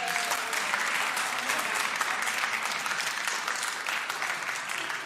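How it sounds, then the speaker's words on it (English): Sustained applause from an audience after a choral performance, dense and steady throughout at moderate loudness, with no voices standing out. "You should give yourselves a round of applause, because that's awesome"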